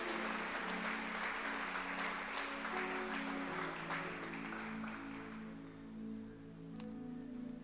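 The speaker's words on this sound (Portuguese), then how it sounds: "Se você pode, aplauda o nome do Senhor" A church congregation applauds during a worship service, a dense wash of clapping that fades toward the end while a sustained musical tone lingers underneath.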